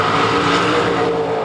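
A race car tearing through traffic at around 140 mph, its engine a loud, sustained high-pitched roar that holds steady across the whole moment with no voices.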